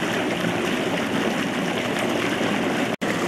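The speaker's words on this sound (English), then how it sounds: "In case you're wondering what the noise is, a little fountain with the water." Small water fountain at a zoo splashing steadily, a continuous close rushing trickle with a brief cut near the end and no speech.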